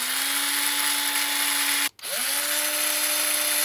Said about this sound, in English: we're going to use an 8mm drill for that